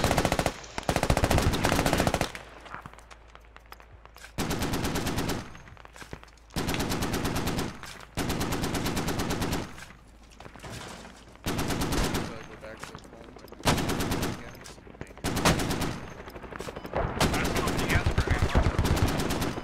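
Bursts of automatic gunfire in the military video game Squad, a series of repeated, loud rattling volleys separated by short pauses, with faint voices underneath.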